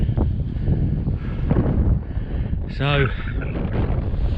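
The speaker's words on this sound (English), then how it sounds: "Bit windier up here" Wind gusts steadily across an open moor hilltop, buffeting the microphone with a low, rough rumble, while a voice briefly speaks partway through.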